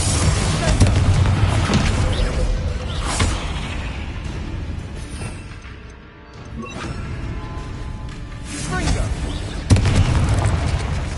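Confringo fire-spell explosions in Hogwarts Legacy: loud booming blasts and crashing bursts come in waves, briefly dropping to a lull near the middle before another sharp blast hits, all layered with dense game effects.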